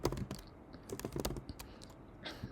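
Quick, close typing on a computer keyboard: a fast run of crisp clicks that thins out toward the end, with no voices.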